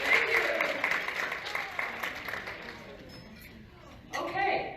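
Audience applause at a women's leadership event, with a spread of claps that fades quietly toward the end before a brief renewed burst.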